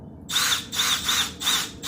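A power drill bores drainage holes in a plastic container for planting bare-root roses, sounding in four quick high-pitched bursts, each about a third of a second, with short pauses between, close and fairly loud.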